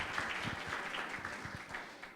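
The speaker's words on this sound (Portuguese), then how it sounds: "por favor, também uma salva de palmas para o Conselho Consultivo do MyNova Summit 2019" An audience at a business summit breaks into steady applause, a dense patter of many hands clapping at moderate distance, fairly quiet and continuous.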